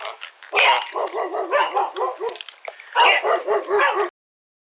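A dog barks and yips repeatedly in quick, agitated bursts during a tense police encounter, loud and close, with a brief pause midway before a final run of barks.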